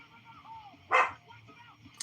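A lying-down dog gives a single sharp bark close by, set among quieter murmurs and vocal sounds.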